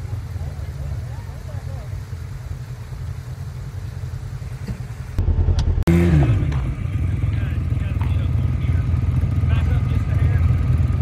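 A motorcycle engine with gear reduction on an old rail bed, idling at a steady mid pitch before revving up quickly around the middle, then holding a louder, rougher drone. Voices are heard faintly beneath it.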